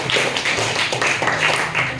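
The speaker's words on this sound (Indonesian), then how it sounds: "tepuk tangan dulu untuk Karisa" Applause in a classroom, with students clapping in a steady, moderately loud patter over two seconds, the claps blending into a continuous rustling wash with no voices over it.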